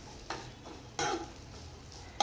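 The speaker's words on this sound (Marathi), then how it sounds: "तर इथे राईस आहे ना ते छान असं मिक्स करून घेणार आहे." Rice being stirred and mixed in a pan for corn fried rice, a few brief scraping strokes with a soft sizzle, close and fairly quiet with gaps between strokes.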